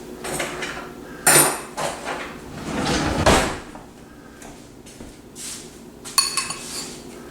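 A serving spoon knocks and clinks against dishes, a few sharp kitchen clatters set among quieter handling sounds, close and fairly loud, with no talking.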